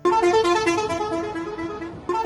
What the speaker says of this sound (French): C'est le klaxon de la voiture qui vend du bon pain cuit au feu de bois.